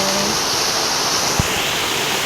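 During heavy monsoon rain, water runs off a metal roof sheet in a steady, loud, rushing wash. A single short spoken word sounds briefly over it.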